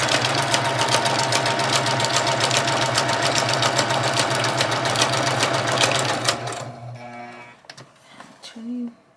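A sewing machine runs steadily for about six seconds, stitching through junk journal pages with a fast, even mechanical whir, then stops, leaving a few faint handling clicks and a short hum.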